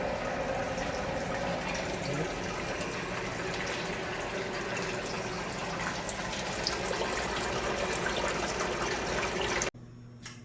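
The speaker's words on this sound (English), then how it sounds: "now that we've finished transferring our wort into our SS brew tank" Wort pours steadily through a hop filter into an SS brew tank while a New England IPA is being brewed, a continuous close splashing rush of liquid that cuts off abruptly near the end.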